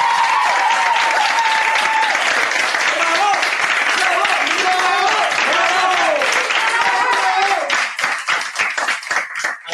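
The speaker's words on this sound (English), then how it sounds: "big round of applause for team members" Applause for team members at the final of a university debate league at ESADE, a loud continuous wash of clapping from an audience, with a voice speaking over it and the clapping thinning out toward the end.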